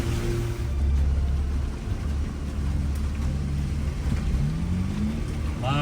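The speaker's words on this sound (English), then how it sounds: "A lot of tire slippage, but it's grabbing enough. Get up through the mud." Off-road vehicle grinding through slippery mud at Burning Rock Off Road Park, a loud sustained low engine drone with rising revs as the tires spin and slip, close and continuous.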